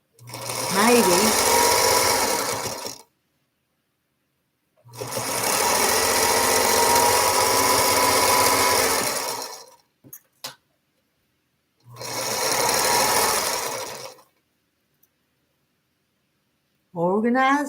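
A sewing machine stitches quilt pieces together in three long runs of steady whirring, separated by silent pauses, with a couple of short clicks in between and a brief voice at the end.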